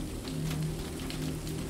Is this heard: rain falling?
yes